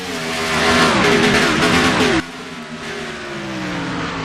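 Race cars in the Cars video game roar off the green-flag start of the Fiber Fuel 500 at Phoenix Raceway, a loud dense pack of revving engines that rise in pitch, then drop abruptly to a steadier, quieter engine drone.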